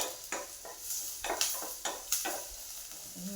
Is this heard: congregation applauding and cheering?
no